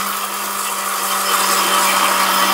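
An Orpat 1600W blender runs at high speed, a loud, steady motor whine with a constant hum that holds throughout and grows slightly stronger toward the end.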